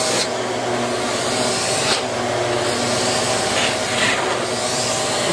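A shop vac runs steadily at close range, a loud continuous motor whine and airflow roar with brief rattling surges, used to suck up tiny metal shards and splinters during a metalwork build.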